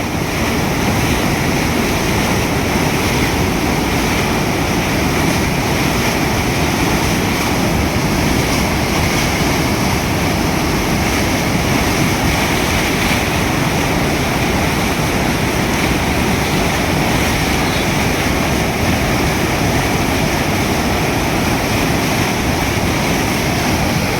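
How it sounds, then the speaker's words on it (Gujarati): Floodwater of the Machchhu river near Morbi surges loudly after heavy rain, a constant roaring rush close by, with no talk. "કેવું ઉછળે પાણી."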